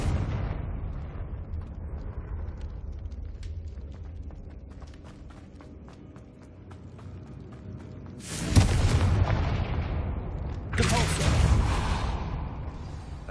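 A humming, chiming lead-in in Hogwarts Legacy gives way to two loud, booming blasts of the Confringo curse a couple of seconds apart, each with a roaring, crackling tail.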